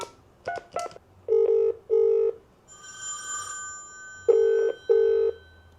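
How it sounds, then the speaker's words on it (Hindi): A Beetel M59N corded landline dials out, giving a few quick keypad tones, then sounds repeated paired ringback beeps in a steady rhythm with a brief higher tone between them, clear and close. "मतलब कॉल हो रही है।"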